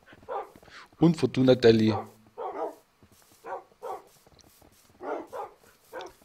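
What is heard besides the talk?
dogs barking in the video game Minecraft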